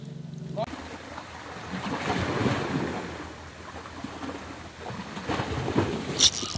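At sea during lure fishing for rockfish, a steady rough wind blows straight into the microphone, rising and falling in strong gusts, with water washing faintly below and brief voices at times.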